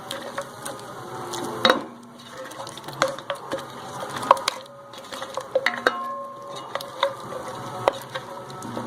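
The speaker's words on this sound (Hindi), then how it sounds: "इस तरह से एक बार फिर इसको मिक्स करेंगे।" A spoon stirs spices into chana dal and meat in a cooking pot, with intermittent scraping clinks against the metal over a soft sizzle, the strokes coming in an uneven, repeated rhythm.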